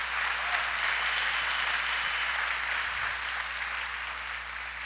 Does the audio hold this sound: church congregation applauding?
yes